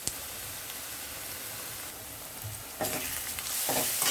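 Onion and ground paste frying in oil, a steady low sizzle with scraping stirs that grow louder and hiss more strongly toward the end, no speech.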